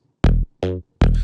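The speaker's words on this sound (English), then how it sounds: "This pluck sound is one that I like to use a lot, but it's another serum patch, and it just sounds like this." Three short, bright electronic synth plucks from a Serum patch hit in quick succession, each with a sharp attack and fast decay, clean and loud with silence between.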